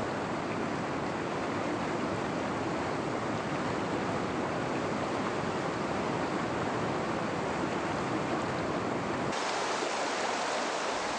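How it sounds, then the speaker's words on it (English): Steady broadband hiss of hot spring water and venting fumaroles in a sulfur valley thick with white steam, a continuous roar like rushing water that drops abruptly quieter near the end. "there are holes filled with hot spring water and many fumaroles"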